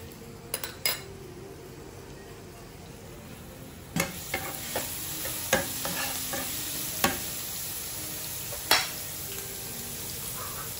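Garlic sizzles in a hot pan as a steady frying hiss for a home breakfast, punctuated by several sharp clinks of a utensil scraping and tapping the pan.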